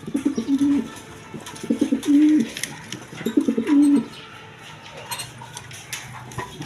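A male tulip pigeon coos in three low, throaty bouts, each rising to a drawn-out note, close by with quiet background noise between calls.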